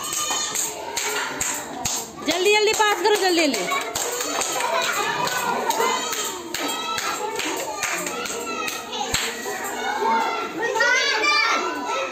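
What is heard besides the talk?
children clapping hands in classroom game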